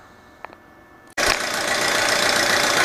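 A 2007 Audi A4 engine with low oil pressure starts abruptly after a brief quiet moment, then runs loud and close as a steady, noisy idle with a dense mechanical clatter.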